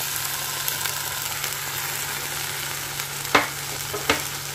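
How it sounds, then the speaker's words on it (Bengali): Food sizzles steadily in hot butter in a kadai, a continuous close frying hiss broken by a couple of sharp clinks of a utensil against the pan. "আর এইদিকে বাটারও গরম করে নিয়েছি কড়াইতে"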